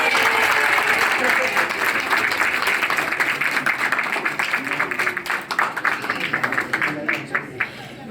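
An audience at an engagement ceremony applauds, loud, sustained clapping that thins into scattered, separate claps toward the end, with a voice speaking over it.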